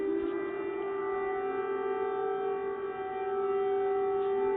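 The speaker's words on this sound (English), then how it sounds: "You have echoes, multiple air raid alerts going off right now." Air raid sirens sounding across Kyiv, a steady sustained wail with echoes, distant but continuous over a low background hum.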